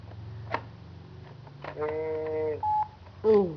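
A mobile phone keypad sounds a short run of clear electronic dialing tones, a few sustained beeps close by with gaps between them and faint household noise underneath.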